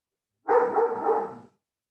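A small dog barks indoors in one sustained, yappy burst lasting about a second, fairly close and heard alone without talk.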